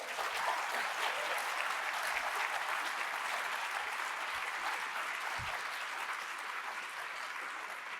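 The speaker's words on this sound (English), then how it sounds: "So I think we should actually give a huge round of applause." Audience applause after a debate on health data, a dense, even wash of clapping from a room full of people, sustained and moderately loud for the whole stretch.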